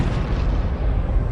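A deep, sustained roar of two massive industrial explosions in the Nevada desert, measuring 3.0 and 3.5 on the Richter scale, loud and rumbling with no break, dominated by low booming energy.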